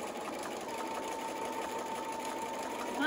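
A sewing machine stitches a flannel burp cloth, running as a steady, close, continuous mechanical whir and rapid needle chatter with no break and no speech.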